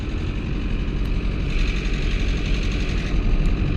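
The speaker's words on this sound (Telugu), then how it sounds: "సౌండ్ చూడండి, ఇంజిన్ సౌండ్ ఒకసారి." A Tata Indica Vista TDI diesel engine with damaged rocker arms and oil mixed with water runs near a garage, giving a dense, steady, loud low rumble with a constant vibrating drone and no talking.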